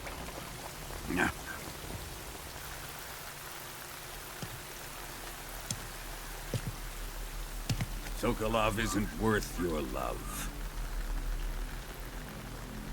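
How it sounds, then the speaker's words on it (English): Steady rain patters beneath a low rumble in the video game Metal Gear Solid Delta: Snake Eater, with a voice speaking over it midway and some brief sharp knocks. "You can entertain me until the rain stops."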